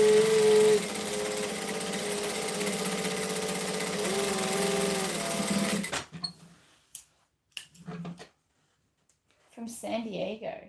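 Sewing machine stitching a pocket, a steady mechanical whir running for several seconds before stopping, followed by short bursts and a voice speaking.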